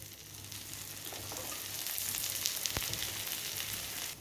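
Green gram paniyaram fry in oil in a pan, a steady close sizzle and crackle that swells slightly with a brief sharper pop, no voices.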